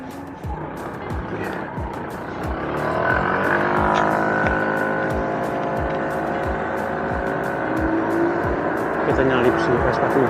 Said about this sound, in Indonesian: Kita nyalip si Vespa guys, banyak lama guys, lambat soalnya.